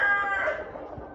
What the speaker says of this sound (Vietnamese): Là quay hình gà